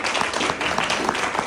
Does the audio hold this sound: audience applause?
yes